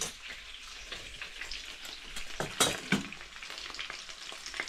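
Chicken frying in a pan with ground spices for chicken korai, a steady close sizzle and crackle with a few brief stirring scrapes, no voices.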